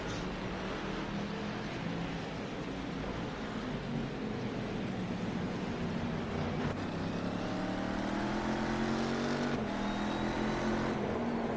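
Race cars circling a road course with a tight hairpin during a race, a steady continuous engine drone with a car passing and its pitch sliding near the end, loud and unbroken with no talk over it.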